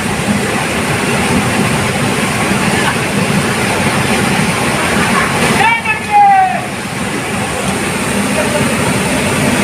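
A waterfall in Nepal where people go to bathe gives a continuous, loud roaring rush that fills the whole stretch, with a brief high squeal partway through.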